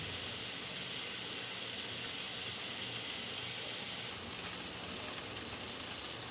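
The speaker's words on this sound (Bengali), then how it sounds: "পনিরটা একটু হালকা লাল করে ভেজে নেব" Paneer frying in oil in a pan for a potol paneer dish makes a soft, continuous sizzle like light rain, growing a little brighter and louder partway through.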